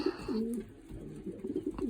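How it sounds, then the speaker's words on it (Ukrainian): Low, rolling pigeon coos repeat close by, a soft throaty warble that keeps going steadily over a quiet background. "Це таке голубеня."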